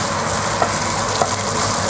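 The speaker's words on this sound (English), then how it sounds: "and then you fry your ingredients" Ingredients for Kenyan pilau fry in a pan with a steady, close crackling sizzle, interrupted by a couple of soft stirring knocks.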